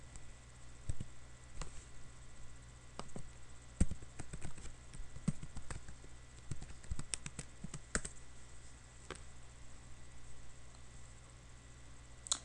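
Keys on a computer keyboard are tapped in an irregular run of close, quiet clicks, bunched into quick bursts with brief pauses, over a faint steady hum.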